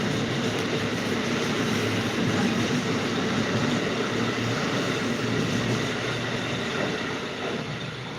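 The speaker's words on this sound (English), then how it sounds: "that train is not usually packed that much this hour of the night" A passenger train passes at night, a loud, steady roar of wheels and rail noise that fills the whole clip and eases slightly at the end, with no talking.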